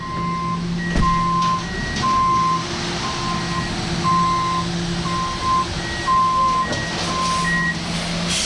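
A concrete truck arriving on a windy country house site, its reversing alarm beeping in a steady repeated pattern over a loud rumbling diesel engine and wind.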